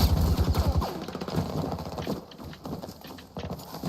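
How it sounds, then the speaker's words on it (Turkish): Rapid footsteps clatter in Battlefield 2042, a quick heavy run of impacts at first, then fainter scattered steps amid game noise and distant gunfire. "Abi ayak sesleri çok geliyor ya"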